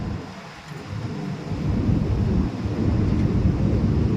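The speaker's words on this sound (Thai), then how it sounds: "ลมเย็นๆมาครับ มาพร้อมกับฝน" Steady, rushing cool wind with rain at a coastal port, a dense low roar that swells louder partway through and stays constant, with no voices.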